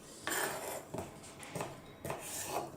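A knife chopping onion into squares on a board, four or five distinct, evenly spaced cuts, close and fairly soft, with no talk.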